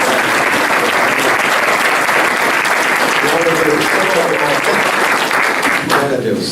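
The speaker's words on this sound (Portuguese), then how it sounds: "Vamos aplaudir a Jesus." Sustained audience applause fills a church retreat gathering, dense and steady clapping from a large crowd for several seconds, with a faint voice near the end.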